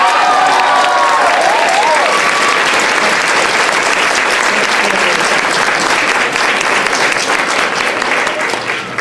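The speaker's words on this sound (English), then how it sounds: "So, a round of applause for Ms." Loud sustained applause from a school band senior awards night audience, dense clapping with some crowd noise and a brief whistle-like tone early on, fading slightly toward the end.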